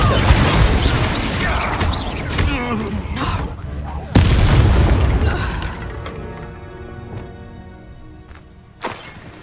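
Fiery Confringo spell blasts in Hogwarts Legacy, bursting with sharp explosive cracks and a sudden loud boom midway, followed by a fading crackle and one last short pop near the end.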